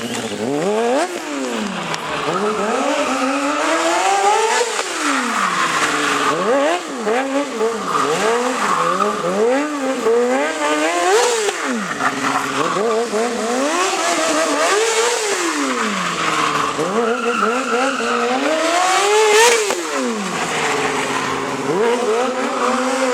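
A stunt motorcycle engine revs up and down repeatedly in rising and falling whines, loud and continuous, with tires squealing and faint crowd noise underneath, at a motorcycle season-opening stunt show in Śrem, Poland.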